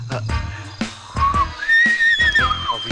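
A whistle blown in a comedy film scene sounds as a shrill, wavering tone that rises and falls over a couple of seconds, set against a busy background of music and other noise.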